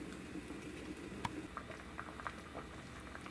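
Pasta boils in a covered pot of salted water, giving a quiet, continuous bubbling and soft patter with occasional small pops, close by and without any voices.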